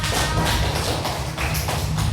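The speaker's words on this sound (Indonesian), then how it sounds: "Kita tepuk tangan semua." Steady rhythmic hand clapping from a group of children in a classroom, quick even beats that blur into a continuous patter, fairly loud and close.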